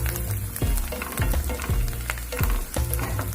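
Onion and spices fry in oil with turmeric as a utensil stirs the pan: a dense, close sizzle broken by six or seven rhythmic scraping strokes.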